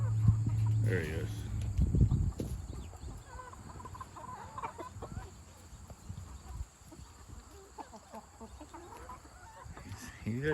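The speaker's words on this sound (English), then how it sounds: "Well, there's the big rooster." A big brown-layer rooster on a small chicken farm clucks in short repeated bursts near the start, then quieter sporadic clucks follow while a person talks nearby.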